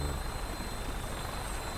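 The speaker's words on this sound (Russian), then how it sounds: "Нет, это просто вертолет обычно." Steady low rotor drone of a helicopter in the video game Fallout 4, a continuous mechanical rumble with a whining tone on top, constant in level throughout.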